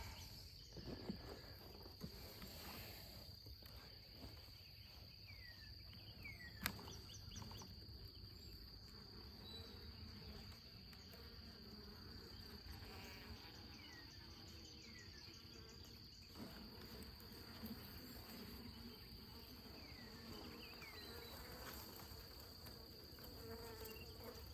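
A crowd of honeybees hums steadily around an open hive whose comb is drawn out tightly, a dense, continuous buzz with individual bees droning past up close.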